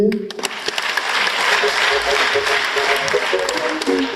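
An audience at a prayer gathering breaks into loud, full applause, many hands clapping in a dense, sustained wash with a few sharper claps near the start.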